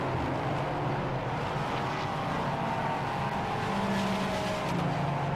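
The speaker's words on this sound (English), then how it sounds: "Several cars all in the pit lane." Endurance race cars in the pit lane at Silverstone during a Praga category race, a continuous mix of engine noise and crowd-like wash with a few passing engine surges, fairly loud and steady throughout.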